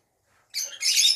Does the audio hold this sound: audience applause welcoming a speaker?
no